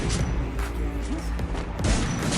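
Sustained rapid gunfire in the Free Fire mobile game, a dense continuous fusillade of loud shots and impacts, with faint talk underneath.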